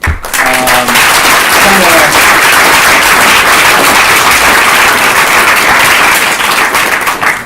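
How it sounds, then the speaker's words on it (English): A loud wash of audience applause at a talk on microdosing psychedelics fills the room continuously, with a voice briefly heard at the start before the clapping dominates. "If you guys could also give a round of applause to Terry and Cinder for putting this event on."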